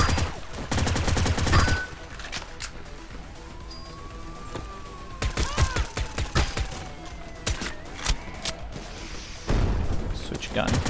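Bursts of gunfire from an Uzi and AK in Gene Shift Auto, a top-down crime battle royale game, crackling repeatedly with sharp volleys amid a wailing police siren and chaotic in-game noise.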